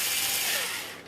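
A screw is wound back out of a threaded hole in a Miele S6 compact vacuum cleaner body, giving a brief, close, scraping ratchet-like grind that fades slightly at the end.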